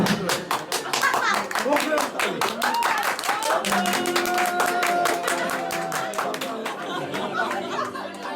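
A group of people clapping in rapid, steady rhythm at a birthday gathering, close and lively, with voices chattering and calling out over the applause.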